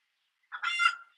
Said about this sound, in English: I have chickens